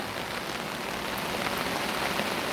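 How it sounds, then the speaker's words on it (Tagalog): Heavy rain pours down steadily during a typhoon in a rural Philippine garden, a dense, unbroken hiss of drops with no voices. "wala nang tigil ang ulan simula nung Lunes"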